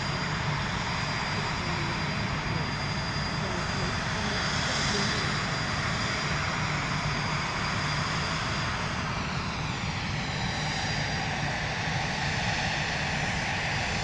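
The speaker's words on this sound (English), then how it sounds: "Lovely noise from the Global 6000 as it sets power all the way over there in the distance." A Bombardier Global 6000 business jet sets takeoff power far off at London Luton Airport, giving a steady, distant broadband roar that holds throughout with a faint rising whine.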